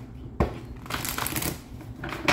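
Tarot cards are shuffled by hand during a reading, a short papery riffle and rustle close to the mic, starting with a sharp snap and followed by crisp flicking bursts.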